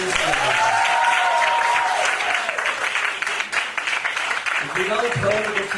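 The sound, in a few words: audience applause for a team member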